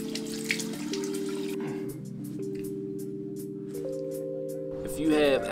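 Cold tap water runs steadily into a sink while a man splashes it onto his face after rinsing off a sea moss mask, with a soft wash of flowing water and a brief louder splash at the end.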